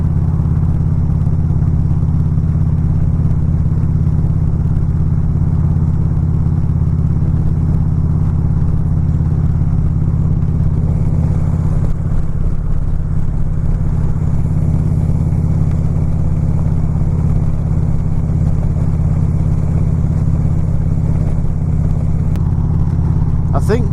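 A motorcycle cruises at 55 mph in sixth gear, its engine holding a steady, loud, even drone with wind rush for the whole stretch and no change in pace.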